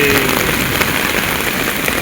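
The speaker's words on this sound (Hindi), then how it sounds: "बारिश देखो एकदम आसमान फाड़ के बारिश आया है, देख रहे हो इतना तेज़ बारिश हो रहा है।" Heavy rain pours steadily onto a street in Kolkata, a dense, loud, unbroken hiss with faint engine rumble beneath it.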